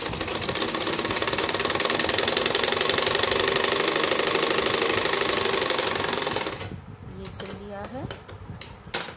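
A sewing machine stitching a buckram blouse neckline, a loud, rapid continuous mechanical whir with a fast stitching rhythm that stops abruptly, followed by a few clicks and handling noises.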